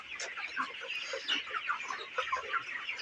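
Broiler chickens on a poultry farm cluck steadily in a dense, overlapping chorus, with many birds close by and no voices heard.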